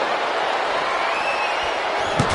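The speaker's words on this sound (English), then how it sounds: "Jamal getting the crowd riled up now." A steady, roaring arena crowd in the wrestling game WWE 2K25, cheering continuously at a constant loud level, with a faint thud near the end.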